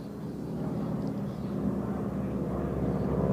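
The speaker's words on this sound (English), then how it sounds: "That's the big red airplane out there." A T-6 airplane racing in the T-6 Class Silver Race at the National Championship Air Races gives a steady, droning engine roar. The roar is moderately loud and continuous, without talk.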